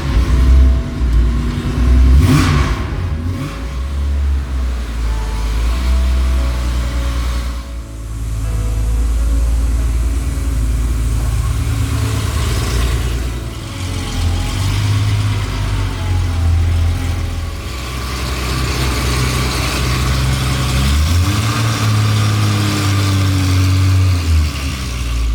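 A Porsche 911 engine rumbles steadily at idle, deep and close, with a couple of brief revs rising and falling over the low drone.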